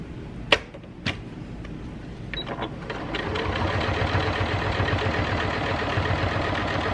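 An Elna Elnita EF72 (Janome 6650) sewing machine stitches through eight layers of denim. A couple of sharp clicks come first, then a steady, even, close-up mechanical hum and rapid stitching that runs without stalling.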